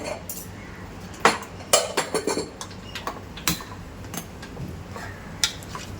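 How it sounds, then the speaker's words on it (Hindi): A gas stove being switched back on while bhindi gosht (mutton with okra) cooks in a home kitchen: several light, sharp clicks and small metallic clatters, scattered and fairly quiet. "अभी मैं गैस को वापस से ऑन कर लेती हूँ।"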